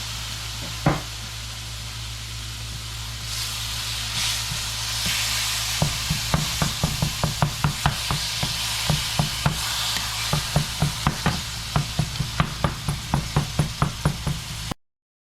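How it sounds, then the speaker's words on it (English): Ground beef fries in a pan over medium-low heat, a steady sizzle under repeated scraping stirs that quicken into a regular clacking rhythm, close and loud with no talk. "We've got to start cooking off our ground beef."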